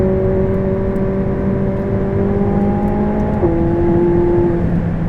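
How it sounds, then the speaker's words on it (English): A 2016 McLaren 675LT on Pirelli Trofeo R tires pulls hard through the gears, its engine note climbing and shifting up with a brief dip at each change, loud and steady from close by with no talk. "It goes through the gears just magnificently."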